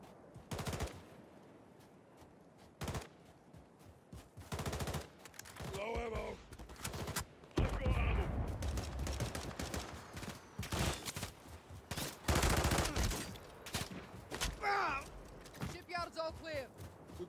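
Call of Duty 3 campaign combat with bursts of automatic and heavy weapon fire cracking in repeated volleys, mixed with shouted radio voices and explosions across a long, busy stretch.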